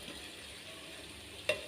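Soft stirring of boiled taro root curry seasoned with salt and chili in a pan, a faint gentle scrape under a low sizzle, ending with a single sharp clink.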